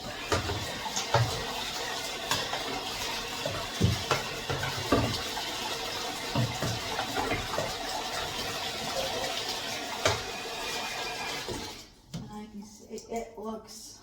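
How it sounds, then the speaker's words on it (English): Water runs steadily from a shower while an item is rinsed during a whole-house clean, a continuous splashing wash that drops away near the end, followed by quieter scattered handling noises. "I think I have to rinse this in the shower."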